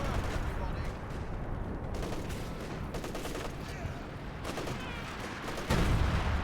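Artillery barrage in the real-time strategy game Company of Heroes 2, with dense, continuous rumbling blasts and gunfire rolling throughout, closing with a heavier impact; a commentator talks over the battle.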